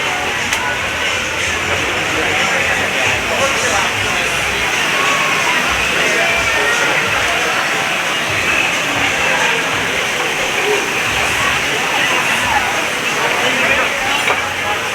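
An indoor waterfall at a Rainforest Cafe restaurant pours steadily, making a continuous broadband rush that sits at a constant level throughout, with faint crowd ambience beneath it.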